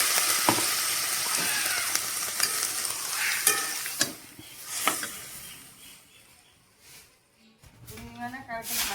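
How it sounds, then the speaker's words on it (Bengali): Oil sizzles and hisses steadily as spices fry in a pan while a spoon scrapes and stirs, the sizzle easing and softening toward the end as a little water is added, with a brief voice. "এখন হালকা করে একটু জল দিয়ে ভালো করে মশলা দিয়ে ভেজে নিচ্ছি"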